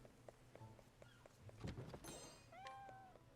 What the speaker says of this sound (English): Oh no, it's a cat.